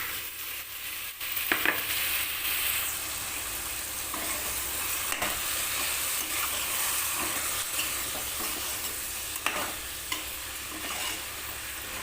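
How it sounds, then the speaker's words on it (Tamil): Washed green peas fry in hot oil in a pan with sautéed ingredients, a continuous close sizzle broken by scraping stirs and occasional clatters of a spoon, with no voices. "இப்போ இந்த பச்சை பட்டாணி நல்லா கழுவி எடுத்தாச்சு இப்போ இதை போட்டுக்கலாம்"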